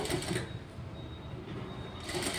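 Sewing machine stitching blouse cloth near embroidered computer work, running in a steady mechanical whir with brief louder bursts at the start and end, no talking.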